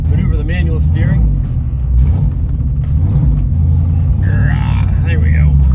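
A 1971 Ford Mustang with manual transmission rumbles steadily at low speed leaving a parking lot, its engine loud and close throughout while someone talks over it.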